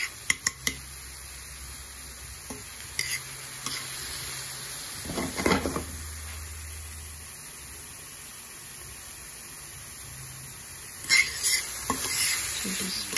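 Onions cooking in a pan for Dominican mangú, with scattered scraping and stirring clatters over a faint background sizzle, close and intermittent.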